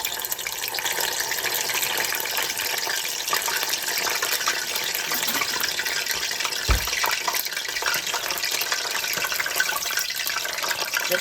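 Okra sizzling as it fries in hot canola oil in a pan on the stove, a steady broadband hiss and crackle running continuously at close range with no talk over it.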